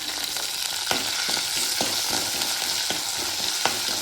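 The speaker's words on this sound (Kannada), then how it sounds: "ಒಂದೊಂದು 2 ನಿಮಿಷ ಫ್ರೈ" Mustard seeds and garlic frying in hot oil for a Mangalore-style okra pulimunchi, a steady close sizzle broken by sharp spitting pops and stirring clicks, with no voices.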